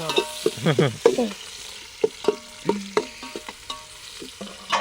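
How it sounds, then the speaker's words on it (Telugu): Onions frying in hot oil in a pan at an outdoor campsite, a steady sizzle broken by repeated scraping and stirring strokes from a spatula, close and fairly loud with no talk. "ఇప్పుడైతే నూనె అయితే పోసేసుకున్నాం ఫ్రెండ్స్ ఇప్పుడు ఎర్రగడ్డ వేసేసుకున్నాం"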